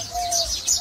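A small bird chirping from its nest in a snowy winter forest, a few bright, close tweets alongside a soft cooing tone, brief and clear with no voices.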